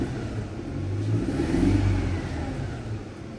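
A Mercedes-Benz W204 with the M271 engine, partly warmed up after a boost leak fix, gives a steady mid-pitched engine drone that swells slightly and then eases, close and continuous, with no voices.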